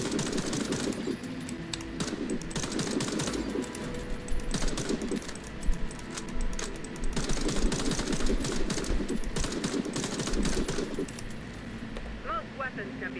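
Repeated gunshots at training targets in the Warface tutorial, steady bursts of firing running throughout, with a narrating voice speaking over the shots.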